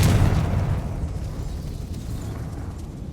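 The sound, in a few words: Confringo blasting spell explosion in a video game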